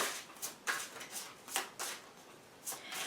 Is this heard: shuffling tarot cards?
yes